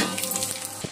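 Mustard seeds, cumin, chana dal and urad dal sizzle in hot oil for a tempering, a close, steady crackling hiss with a brief stir near the end.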